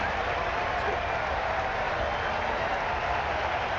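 A cricket crowd at an IPL match in Jaipur applauds incoming batsmen, steady broad clapping and cheering from a large stadium audience that holds evenly throughout.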